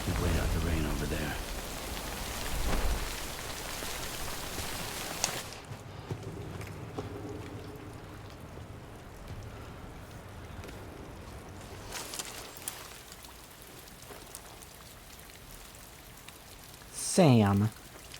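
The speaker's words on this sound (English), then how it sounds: "Wait out the rain over there." Steady rain falls in the video game Death Stranding, a soft continuous hiss of drops on surfaces under faint game sounds, with a short louder burst near the end.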